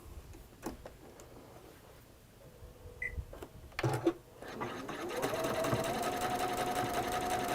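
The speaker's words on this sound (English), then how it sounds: "we're going to again sew on that marked line" Sewing machine stitching patchwork squares along a marked line; scattered handling clicks and brief talk come first, then the motor runs close and steady through the last couple of seconds.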